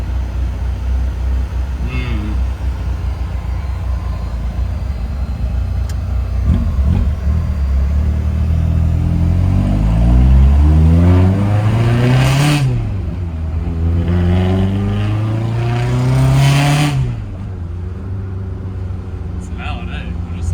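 A Toyota TE27 Trueno engine idles loudly with a deep rumble, then revs up twice in rising and falling sweeps, close by and heavy, while people talk over it.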